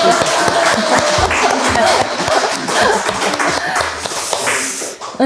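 A church audience claps and applauds steadily throughout a talk show, with scattered taps and a little murmuring in the room.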